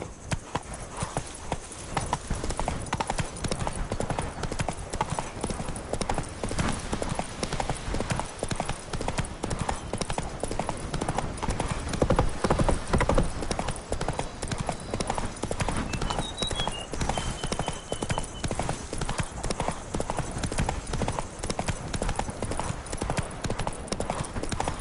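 Roach, Geralt's horse in The Witcher 3: Blood and Wine, trots steadily with continuous rhythmic hoof clip-clop throughout, loud and close, with faint ambient game sound beneath and a brief whinny-like tone midway.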